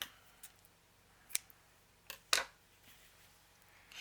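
Scissors snip a small piece of material for a handmade blue hardcover journal, a few sharp, close cuts spaced apart in a quiet room.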